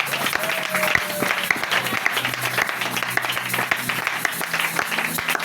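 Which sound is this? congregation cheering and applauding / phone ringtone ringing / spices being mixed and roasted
congregation cheering and applauding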